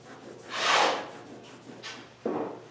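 Cloth rubbing over a painted wall to wipe off scuff marks, comparing Benjamin Moore Scuff X and Aura paints; a few soft, close wiping strokes, the first longest, with quiet pauses between.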